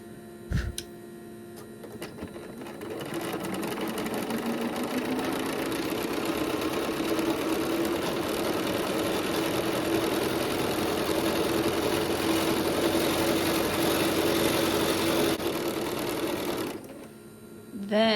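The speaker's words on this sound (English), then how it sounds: "I'm going to continuously sew them" Sewing machine continuously chain-piecing quilt pieces, a steady close mechanical whirr and hum running unbroken for most of the stretch before stopping, no talking.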